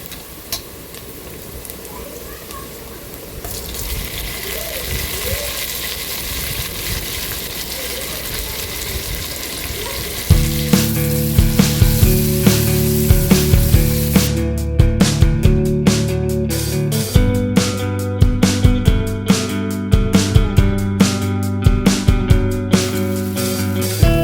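Tomatoes and onions fry in hot oil in a pan for egg biryani, a steady sizzle that grows louder and busier partway through, with sharp clicks and scraping from stirring.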